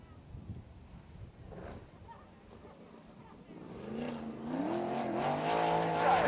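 An IRA 410 sprint car heads out onto a racetrack, its engine rising from a faint distant whine to a loud, revving roar as it draws nearer, with a voice in the background.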